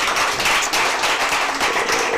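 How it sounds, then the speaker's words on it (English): A crowd at a business workshop in Kanyamazane, Mpumalanga, gives a round of applause to sponsor NetBank, a dense, even patter of many hands clapping close by throughout. "Give them a round of applause,"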